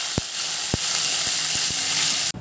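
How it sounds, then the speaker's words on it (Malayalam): Curry leaves crackle and sizzle in hot coconut oil for a Kerala-style prawn curry, a steady frying hiss with a few sharp pops near the start and soft spatters after, alone with no talk. "രണ്ടും കൂടി നന്നായിട്ട് പൊട്ടിക്കഴിയുമ്പോൾ കറിവേപ്പില ചേർത്ത് കൊടുക്കാം"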